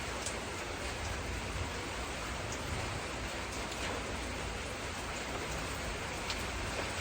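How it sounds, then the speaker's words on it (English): Steady rain falls outdoors, a dense continuous hiss with scattered drops tapping on surfaces, even in loudness throughout and no voices. "It's starting to rain again."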